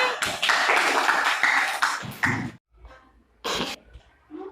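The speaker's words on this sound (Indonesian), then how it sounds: "Tepuk tangan anak-anak untuk Abi" Schoolchildren applaud in a classroom: a dense, ragged burst of clapping for about two seconds that breaks off into near silence, followed by a short late clap or two.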